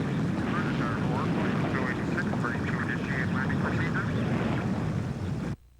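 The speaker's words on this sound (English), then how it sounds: "Whenever a plane flies over, things get a little hazy." A fixed-wing airplane passes overhead as a loud, steady broadband roar that fills the whole span, then cuts off abruptly near the end.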